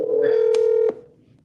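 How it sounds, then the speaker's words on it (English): A telephone number is dialed as a single sustained touch-tone beep with two sharp clicks, close and clear with no talk, then a quiet room tail. "Let me get him on the phone real quick."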